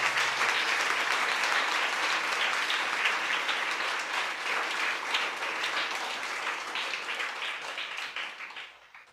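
Sustained applause from a church congregation honoring a priest at his 25th priesthood anniversary, dense and steady throughout before tapering off at the end.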